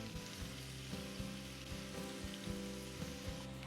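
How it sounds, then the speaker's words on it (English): Onions sautéing in butter for sweet corn risotto give a soft, steady sizzle, with faint crackles and a low hum underneath, and no voices. "See, the onions are becoming translucent, and then I'm going to add in my garlic."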